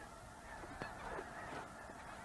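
A flock of wild geese crowded in a marsh honks in scattered short calls, faint and distant over a steady background wash of wind and water noise.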